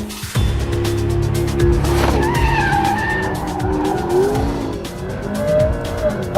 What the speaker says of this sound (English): How can you not enjoy power sliding this car?